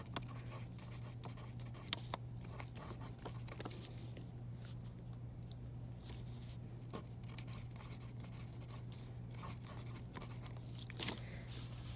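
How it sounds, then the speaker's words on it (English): Pen or pencil writing out a bass clef on paper for a music lesson, a soft continuous scratching with faint taps, steady and close over a low background hum. "I'm going to write bass clef."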